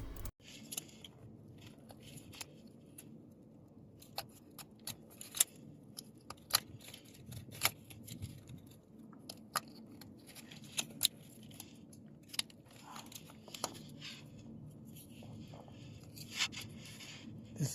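Plastic electrical sockets being pressed and snapped into a JCB backhoe fuse box, heard as a string of sharp close clicks and small scrapes at an irregular pace, quiet overall with no talking.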